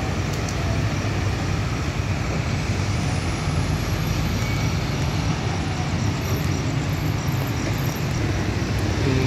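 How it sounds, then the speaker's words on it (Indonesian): A car carrier truck passes on a roadway at night near a roundabout, a loud, steady rumble of heavy diesel engine and tire noise that fills the whole clip, with no talking. "sambil menunggu bus ada truk pengangkut mobil melintas"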